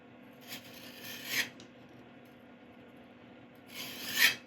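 Two short raspy strokes of a hone drawn across the top edge of a woodturning tool, close and crisp, separated by a quiet pause against a low steady hum.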